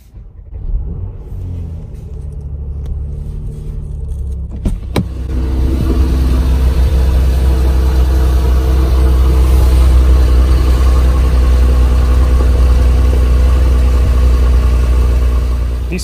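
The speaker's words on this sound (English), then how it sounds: "So now I'm going to start the car in Sport Plus." A 2019 Mercedes-AMG C43 4MATIC Estate is started in Sport Plus mode. After a few quiet seconds, a sharp starter crank fires the engine into a loud, steady, rumbling idle that fills the rest of the clip close by.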